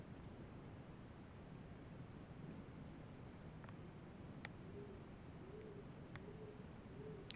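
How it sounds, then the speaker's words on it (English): Beside a church, a pigeon gives a few soft, repeated coos in the distance under a steady hiss of wind or background noise. "A pigeon, most likely."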